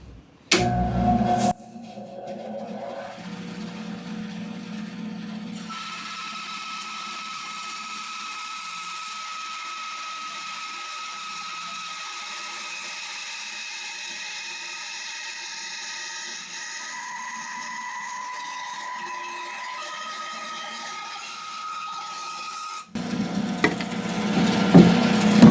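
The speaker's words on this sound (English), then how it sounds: "let's see if this thing's going to bog down or if it's actually going to cut this piece of hardwood" Bauer bandsaw cutting through a piece of hardwood, a steady loud whining buzz of the blade in the wood lasting about twenty seconds without bogging down, with brief motor and handling noise before and after, no talk.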